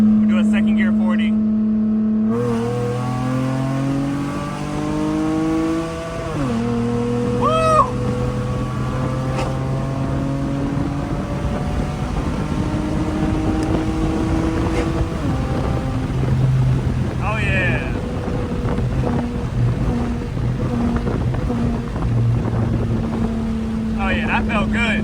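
A V6 Dodge Charger accelerates hard in second gear, its engine note climbing steadily through rising harmonics with a brief dip around a shift point, loud and close with wind rush and occasional voices over it.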